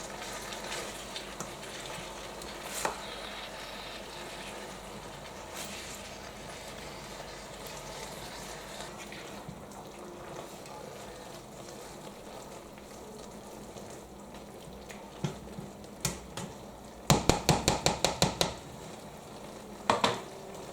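Low carb vegan noodles and vegetables simmer in liquid in a pan with a steady, soft sizzle and bubbling throughout, and a quick run of sharp clicks breaks in near the end.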